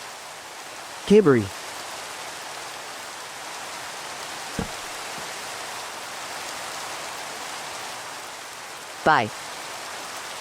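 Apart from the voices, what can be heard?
rain in the video game Minecraft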